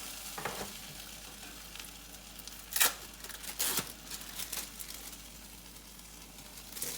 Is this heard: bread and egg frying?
yes